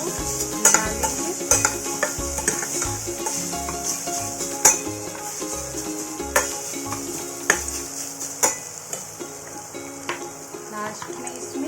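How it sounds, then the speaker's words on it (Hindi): Paneer being stirred into a spiced paratha stuffing in a pan, a steady run of spoon scrapes and light clinks against the metal over a soft sizzle, close and moderately loud with no talk. "अब इसमें पनीर ऐड कर देंगे और पनीर डाल के इसको मिला लेंगे"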